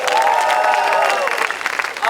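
Dense, loud applause from a concert audience, with cheering voices and shouts rising over the clapping throughout.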